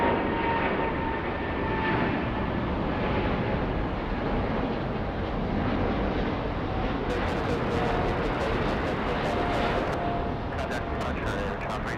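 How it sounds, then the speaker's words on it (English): A Boeing 777 jet airliner takes off at LAX with a loud, steady, broad engine roar that fills the whole stretch, and bursts of crackle come near the end. "Let's go for the big 777 taking off."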